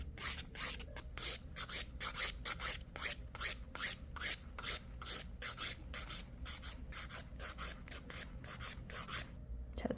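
An acrylic nail extension on a curved natural nail is filed with light pressure, giving a steady run of quick, close, rasping strokes that repeat evenly throughout with no talking.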